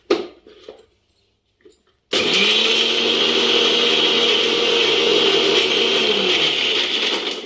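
A mixer grinder coarsely grinding fresh coconut chutney starts after a few light knocks and then runs loud and continuous for about five seconds before winding down, with no voices.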